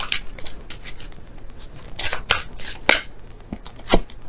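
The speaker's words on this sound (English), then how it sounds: "So I'll shuffle again and see which one comes out." Tarot cards being shuffled by hand, heard close as soft papery riffles and sharp slaps in irregular bursts over a quiet room, with no talking.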